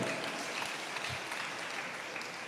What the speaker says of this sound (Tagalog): Lahat ng mga anak ng Diyos, pumalakpak sa ating pinakamahal na Panginoon.